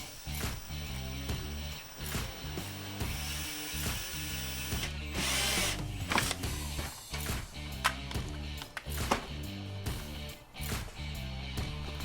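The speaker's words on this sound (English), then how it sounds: "Wiring plan in place, out came the drill." An electric drill whirs and grinds loudly and continuously into a Jeep Wrangler JK during a camera wiring install, with a rattling, ratchet-like mechanical chatter that shifts as it bites into material.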